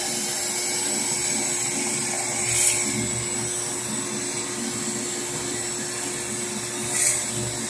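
A drill boring a hole in a ball makes a steady, even mechanical whir that runs the whole time, with two brief swells of higher-pitched grinding partway through.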